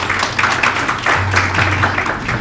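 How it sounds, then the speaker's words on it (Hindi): Audience applause welcomes a woman to the stage at an Urdu writers' society poetry gathering in North America, steady dense clapping from a room of people, fairly loud and continuous under a low hum. "आप सबकी भरपूर तालियों में रूही सिद्दीकी।"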